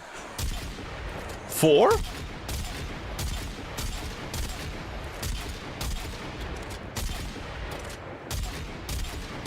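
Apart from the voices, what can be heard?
gunshots from a Kuva weapon in the video game Warframe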